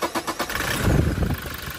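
A 2019 Toyota Innova engine with a black smoke fault cranks briefly and catches, settling into a steady running rumble close by, with no voices.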